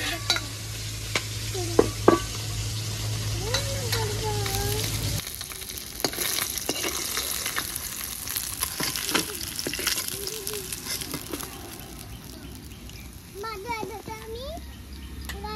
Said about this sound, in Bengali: আমি তোমাকে মাছ ভেজে দিলাম।